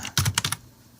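Quick burst of computer keyboard typing, about five or six crisp key clicks in under half a second, close and clear, then quiet.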